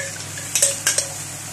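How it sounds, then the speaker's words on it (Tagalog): Shrimp paste (bagoong alamang) stirred into pork Bicol express in a pan, two quick metallic scrapes and clinks of a spoon against the pan, close and fairly loud over a low background hum. "Iglalagay na rin ako ng bagoong alamang."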